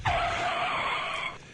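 Car braking hard in a skid, a loud sustained tyre squeal with a sharp onset that holds steady before cutting off, alone with no talk.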